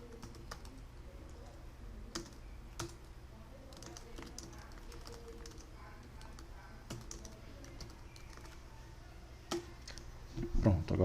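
Keys tapped on a computer keyboard in scattered bursts, quiet and close, with a louder clatter near the end.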